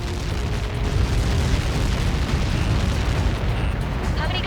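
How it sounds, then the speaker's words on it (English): Missile impact explosion in the Ace Combat 7 flight combat game, a loud sustained roaring blast rumble filling the whole clip with dense low-end energy and radio chatter faintly underneath. "How many got caught in that explosion?"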